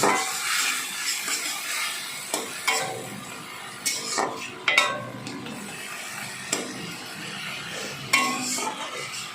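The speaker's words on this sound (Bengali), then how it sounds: "মশলাটা কিন্তু ভাজা ভাজা হয়ে আসছে" Ground spices with Kashmiri chili powder frying for ridge gourd dal, stirred in a pan: repeated scraping strokes of a spatula over a soft, continuous sizzle, heard up close.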